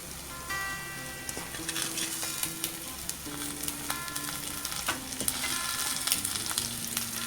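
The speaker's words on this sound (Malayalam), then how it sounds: "ഇനി ഇതിലേക്ക് അവസാനമായിട്ട് കുറച്ച് കറിവേപ്പില ചേർത്ത് കൊടുക്കാം" Kerala-style beef fry sizzles steadily in a pan as curry leaves go in. Crackling spits and stirring clinks sound close, with no talking.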